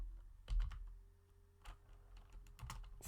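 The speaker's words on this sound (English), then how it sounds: "and then you can start typing." Typing on a computer keyboard, scattered clusters of key clicks with pauses between bursts, quiet and close with no talk.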